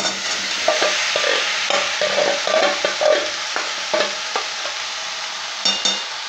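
Marinated ingredients for echar (young jackfruit) curry sizzle steadily in a hot pan, with repeated scraping strokes of a spatula stirring them through the oil, close and continuous with no talk.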